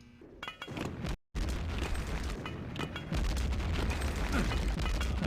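Game explosions from a thrown grenade and a Panzerfaust in a competitive shooter match, heard as dense, continuous booming and crackling with a brief dropout, then heavier low rumbling.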